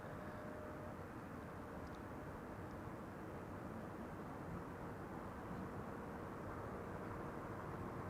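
Delta Airlines Airbus A330-300 arriving at Amsterdam Schiphol from Atlanta, a steady broadband jet roar holding evenly throughout, fairly distant and continuous with no talk.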